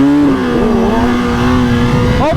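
A 2022 Suzuki Hayabusa motorcycle engine at a drag strip holds a loud, close, steady drone around 4,000 RPM, wavering slightly before the pitch starts to climb at the end.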